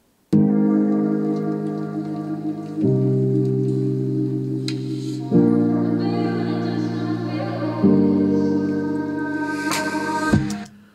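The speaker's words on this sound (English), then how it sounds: "I'm going to start off with some pianos for the intro" Sustained Kontakt piano chords open an electronic track, held notes changing every few seconds in a slow progression, clear and upfront with no voices.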